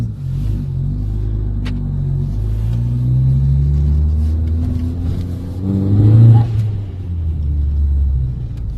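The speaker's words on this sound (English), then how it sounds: "Want to hear this thing running?" A 2016 Ford Focus ST's turbocharged engine runs steadily at idle with a deep low rumble, then blips once in a short rev around the middle before settling back to a steady idle.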